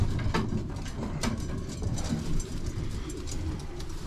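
A racing pigeon, a cock bird that flew 500 km races, coos softly in the hand in a loft, repeated throaty murmurs over a busy background with low rumble throughout.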